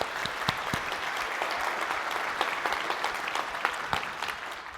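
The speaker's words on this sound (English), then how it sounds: "Give yourselves a round of applause." A plenary audience at the Champions Retreat opening session fills the room with sustained applause, a dense bed of clapping with scattered sharper claps standing out.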